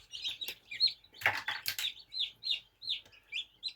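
Newly hatched chicks from Marans eggs peep in high, repeated chirps close by, with a burst of shuffling and rustling near the middle.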